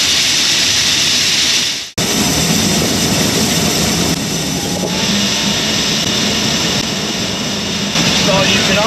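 An electric lithium-battery UTV runs in high gear while leveling a gravel driveway, giving a loud, steady motor whine and grinding roll over gravel that continues without a break after a brief cut near the start.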